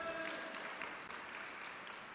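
Congregation clapping together at a Telugu Christian church service, a broad steady wash of applause filling the room for a couple of seconds without voices.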